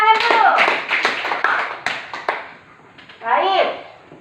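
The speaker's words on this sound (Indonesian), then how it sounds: "kita tepuk tangan dulu" Schoolchildren in a classroom clap together in short bursts of sharp, close hand claps, with children's voices chattering in between and a brief pause before more noise.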